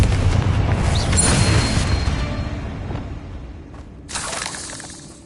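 A Confringo spell blast in Hogwarts Legacy bursts with a loud, heavy boom and shattering rumble that slowly fades over a few seconds, followed by a brief second crackling burst.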